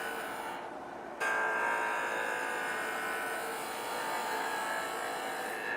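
A skew chisel takes very small cuts on spinning wood on a lathe, a steady buzzing hum with a faint scraping texture that jumps louder after a second and then holds evenly.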